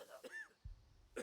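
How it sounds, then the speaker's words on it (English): A person coughs a couple of times in short, quiet bursts, faint and close to the mic, with some soft voices or game dialogue in the background. "can you please cough a lung out somewhere else?"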